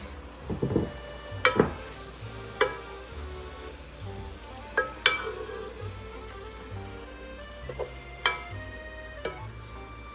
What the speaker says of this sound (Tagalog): So, nagigisa na.